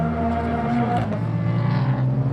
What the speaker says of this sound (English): There's actually a lot of drift cars. There's a Corvette.